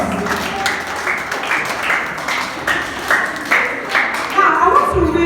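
An audience applauds at a school debate competition, steady mixed clapping from a crowd of listeners, with talk over the applause.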